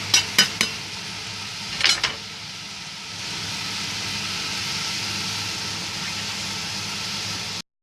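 Prawns fry in a pan with a soft, steady sizzle, preceded by a few sharp clinks of a utensil against the pan early on, with no voices.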